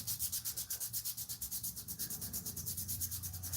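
Rhythmic hand sanding on a blade for a gladius-style sword, steady back-and-forth strokes about six per second, close and fairly quiet, with no voices.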